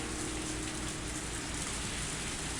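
Steady rain pours in the horror game Higurashi When They Cry: Tatarigoroshi, a dense, unbroken hiss of drops on surfaces with no voices.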